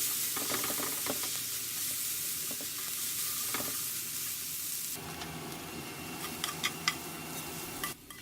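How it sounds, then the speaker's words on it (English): Yakisoba noodles sizzle steadily on a hot griddle as sauce is stirred through them quickly. Close frying hiss runs throughout, with scraping and tapping strokes of the spatula growing sharper near the end. "Put the sauce and stir up quickly so that the sauce is mixed throughout."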